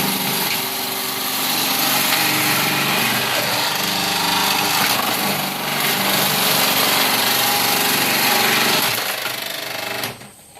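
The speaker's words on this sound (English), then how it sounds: "Step number 1 is grating the beeswax so that it looks like cheese." A machine grates a block of beeswax into cheese-like shavings, giving a loud, steady mechanical grinding drone that runs without a break for about ten seconds before cutting off abruptly.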